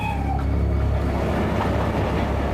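A train rolls past a railway crossing, loud and close, with a steady rumble and clattering wheels that last throughout.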